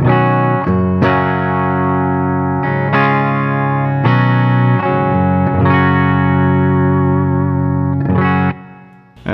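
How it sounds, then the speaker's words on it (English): An electric guitar plays its clean tone with the Xotic AC Booster pedal switched off, sounding several ringing chords and notes struck one after another, loud and sustained, before fading out at the end. "so here's the clean tone"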